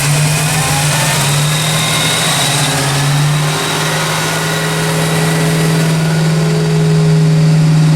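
A 1979 AMC AMX with a 304 V8 runs on a dyno, giving a loud, steady engine drone with a strong low hum. It swells slightly and holds near the end, close and alone without voices.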